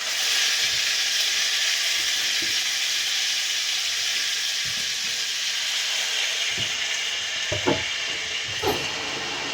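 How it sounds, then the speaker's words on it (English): Food sizzling steadily in a pan on a small woodland homestead's kitchen stove, a constant bright hiss throughout with a few soft clicks and utensil taps near the end. "Now, I'm going to stick it in the pan and you're going to hear it fry."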